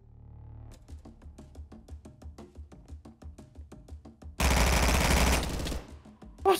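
Pistol fire in the video game Minecraft comes as a fast, even run of sharp shots, followed by a short loud burst of harsh noise and then a thump.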